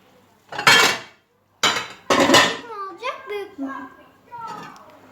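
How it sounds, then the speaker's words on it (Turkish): A plate is pulled from a kitchen cupboard with a few close ceramic clatters and knocks, followed by someone talking over faint dish sounds. "Ben şimdi sana tabak çıkarayım."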